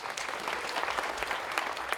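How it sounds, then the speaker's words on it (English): A crowd at a law enforcement awards ceremony claps together, a fairly soft but continuous patter of many hands with slight irregular swells across the two seconds. "if I asked you to clap, what would you do?"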